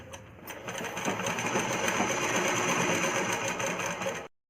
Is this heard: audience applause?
no